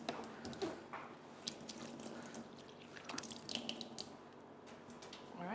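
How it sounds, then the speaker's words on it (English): A kitchen tap runs while hands are washed under it, a soft continuous splashing hiss with small irregular spatters and drips, fairly faint and with no voices. "I would also be washing my hands as the kitchen assistant."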